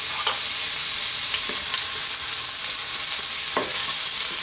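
Chopped garlic and ginger sauté in hot oil in a pan, giving a loud, continuous, bright sizzle with a few brief stirring scrapes mixed in and no voices.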